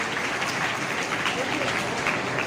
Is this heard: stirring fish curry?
no